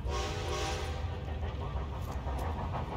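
A train approaches in Red Dead Redemption 2, a loud continuous rumble of rolling wheels with a horn or whistle tone at the start, steady and close throughout.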